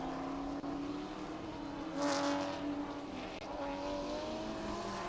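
A race car at Mid-Ohio circuit holds a steady engine drone at moderate distance, swelling briefly as it draws nearer mid-way, with no talk over it.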